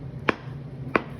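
Two sharp knife strikes against a cutting board while food is sliced for an avocado corn salad, evenly spaced and close, over a low steady background hum.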